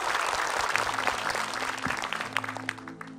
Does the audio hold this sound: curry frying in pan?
no